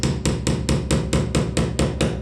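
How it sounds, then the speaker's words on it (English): An impact driver used as a hammer bangs wall plugs into brick: about nine loud, close, evenly spaced strikes in quick succession, with no talking. "And this also doubles up as a hammer. Right, just bang that one in."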